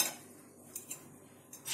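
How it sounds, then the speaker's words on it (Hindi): A steel mixer grinder jar is picked up and set down in a home kitchen while making idli batter from soaked rice and dal, giving a few faint metallic clinks and knocks against a quiet hiss. "आप मिक्सी का जार लें"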